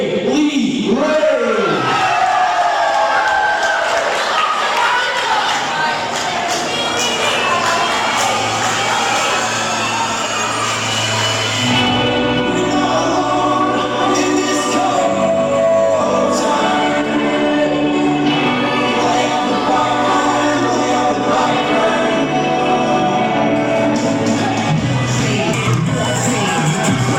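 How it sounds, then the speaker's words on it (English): At a wrestling event, a packed crowd cheers and shouts loudly as Kay Lee Ray walks to the ring, with sustained roaring and whoops and entrance music running underneath, and a commentator talking over the noise. "There's local favorite Kaylee Ray coming to the ring to a huge amount of applause"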